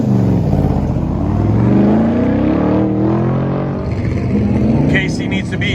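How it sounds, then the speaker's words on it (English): A 1972 Corvette with a 355 cubic inch small block races an autocross course, its engine roaring loud and steady with rising and falling revs, while an announcer talks over it. "72 Corvette, packing a 355 cubic inch small block."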